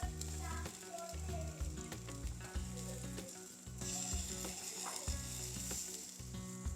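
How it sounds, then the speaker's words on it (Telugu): French toast fries in butter in a pan, giving a steady crackling sizzle with occasional pops and scraping, while a voice talks over it throughout. "ఇప్పుడు రెండు సైడ్లు బటర్తో మంచి కాల్చుకోవాలి ఒక సైడ్ మంచిగా వేగిన తర్వాత రెండో వైపు తిప్పుకోవాలి"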